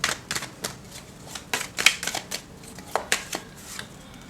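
Tarot cards shuffled close up, a quick series of crisp riffling snaps and soft slaps in an uneven rhythm, fairly loud with no talk over them.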